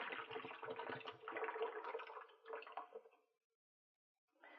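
Liquid yeast sludge from a fast ferment fermenter during homebrewing of an American light ale is poured out in a close, gurgling splash that tapers off into silence, then a short faint trickle returns.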